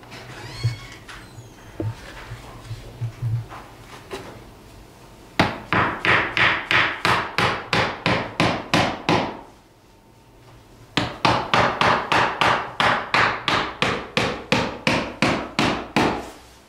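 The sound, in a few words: hammer nailing off a window frame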